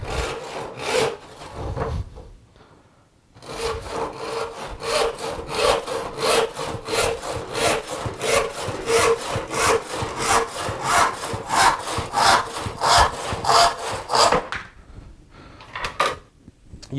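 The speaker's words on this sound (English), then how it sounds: "grab one of these offcuts. This is the perfect way to warm up your body and get yourself ready" A handsaw cuts through a wood offcut in steady, rapid back-and-forth strokes, close and loud, after a brief pause near the start.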